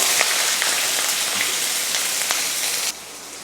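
Mustard seeds, urad dal, garlic and onion crackling and sizzling in hot oil in a pan, a dense close spatter with sharp pops that drops off abruptly near the end.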